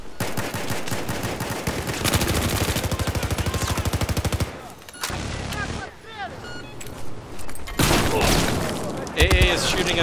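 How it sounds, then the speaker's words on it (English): Rapid anti-aircraft cannon fire in the Battlefield 4 video game rattles in dense, loud bursts with heavy booms between, nearly continuous and close, with brief pauses and renewed volleys toward the end. "AA is shooting at the stairwell."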